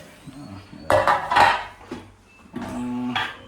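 A metal lid is lifted off a pot of mutton biryani, giving two short bursts of clattering and scraping with a brief metallic ring between them, close and moderately loud.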